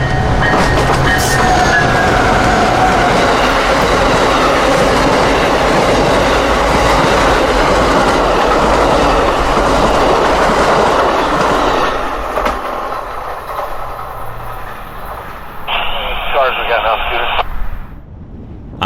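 Amtrak 91 passenger train running southbound on track 1 roars past at close range with loud, continuous rumble and rail clatter, then fades away, leaving quieter background.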